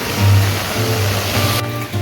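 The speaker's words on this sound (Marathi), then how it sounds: "सकाळचं दृश्य की पाऊस आहे खूप जोरात गावाला" Heavy rain falls on a coastal village in a steady, loud, hissing roar, with a low rumbling undertone and no voices.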